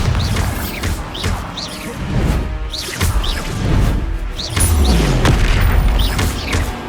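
Bombarda spell explosions in the Hogwarts Legacy video game, repeated booming blasts and crashes mixed with whooshing spell effects and combat clatter, loud and continuous throughout.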